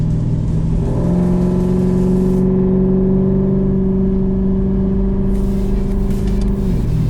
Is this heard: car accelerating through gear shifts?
yes